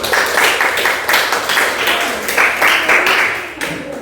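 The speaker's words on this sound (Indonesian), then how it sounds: "Ya, kita berikan aplaus." An audience bursts into loud, sustained applause at a classroom presentation, with dense overlapping claps that rise and fall in waves for several seconds.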